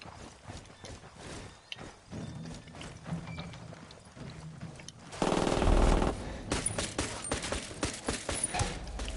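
G2 rifle fire in the video game Ghost Recon Wildlands, a dense run of rapid shots with mechanical clatter that swells into a louder, sustained burst in the second half.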